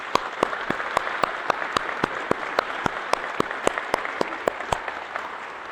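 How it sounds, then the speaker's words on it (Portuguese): A church congregation applauds steadily, with dense clapping and a few sharp, louder claps standing out in a regular beat throughout. "Uma salva de palmas."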